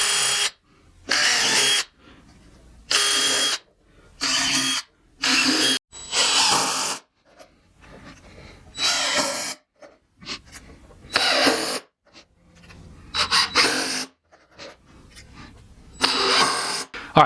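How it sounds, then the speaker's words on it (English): A power drill bores pilot holes and drives screws in repeated short bursts, about a dozen loud whirring runs of a second or so each, separated by quiet pauses, close up with no talking. "So I'm going to drill my pilot holes, and then I'm going to drive in some screws."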